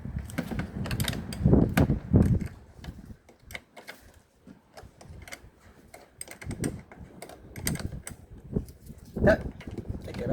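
A 10 mm spanner working a car battery terminal loose, giving faint scattered metallic clicks and ratcheting taps over low background rumble and handling noise.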